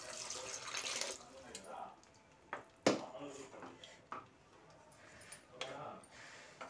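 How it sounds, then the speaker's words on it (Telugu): Water is poured into a pot of prawn curry, a brief splashing rush at the start, followed by quieter clinks and taps while someone speaks softly nearby. "కొన్ని వాటర్ వేసుకున్నాము"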